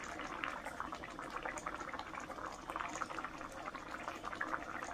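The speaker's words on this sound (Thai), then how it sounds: "ทิ้งไว้ให้เขาเดือดค่ะ" Thai pork green curry with coconut milk and eggplant simmering in a pot, a dense, steady bubbling and popping of boiling liquid heard close and fairly quiet, with no talk.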